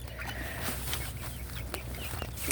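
Chickens and hens at feeding time, knocking over food bowls, with steady clucking and busy scratching noise filling the whole stretch, moderately close and without a break.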